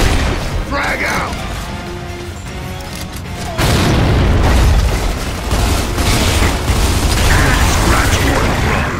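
A grenade bursts in Gears of War 2 with a sudden loud boom, followed by sustained rumbling and battle noise, while players talk over the game sound.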